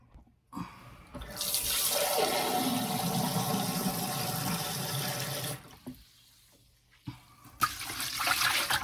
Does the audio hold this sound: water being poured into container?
yes